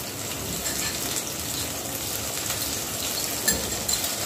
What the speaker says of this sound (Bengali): মশলার বাটি ভরা জল দিলাম একটু